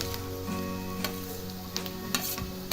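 Finely chopped eggplant for Marathi bharit hits a hot pan and sizzles loudly and steadily nearby, with a few sharp stirring clicks on top.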